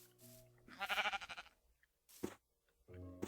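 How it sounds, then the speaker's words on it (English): Minecraft sheep bleat in short, close, wavering calls, a few in a row with brief pauses between them. "Come here, sheep."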